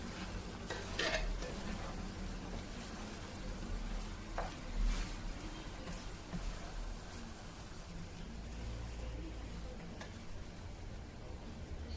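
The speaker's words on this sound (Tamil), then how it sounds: "இப்போ இதோட இந்த பிரெட் துண்டை சேர்த்து நல்லா மிக்ஸ் பண்ணிக்கலாம்" A spoon scrapes and clinks in a pan as bread pieces are stirred into bread upma, soft sizzling underneath, with occasional louder metallic knocks.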